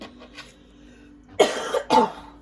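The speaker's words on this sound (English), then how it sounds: "Sorry that I have to keep coughing." Two sharp, loud coughs in quick succession after a stretch of quiet room tone, close to the listener.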